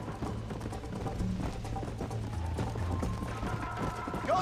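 Hooves of a ridden horse in Red Dead Redemption beat a quick, steady clip-clop close by, layered over game music and background ambience.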